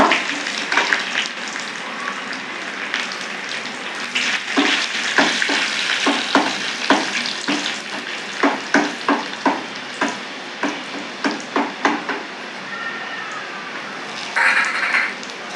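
Onions fry in hot oil with popped mustard seeds and dried chillies for a Tirunelveli-style sambar. A steady close sizzle runs throughout, broken by repeated scraping stir strokes and a brief louder hiss near the end.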